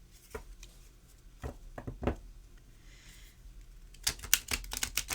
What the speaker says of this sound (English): They're very stiff, but you can do a riffle shuffle with them.